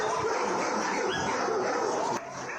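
Many dogs at a city animal shelter bark and yip together in a dense, reverberant chorus that fills the space continuously.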